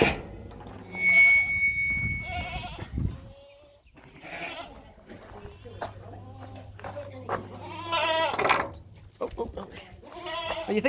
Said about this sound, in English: Oh, you think you're missing out, goats?